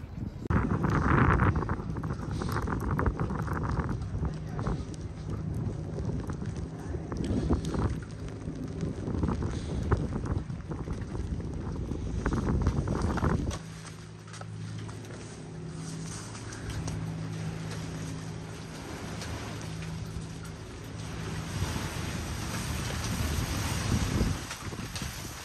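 Wind gusts hard against the microphone outdoors at a light festival in Copenhagen, a loud, continuous rushing roar for the first half that drops to a calmer, lower hum with faint background noise.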